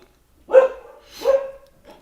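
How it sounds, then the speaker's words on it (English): Two loud, close dog barks about three-quarters of a second apart, followed by a fainter short yelp, heard in a garage setting with no talking over them. "The dogs are going crazy."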